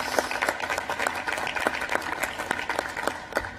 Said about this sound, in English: Another round of applause for the Secretary of Energy.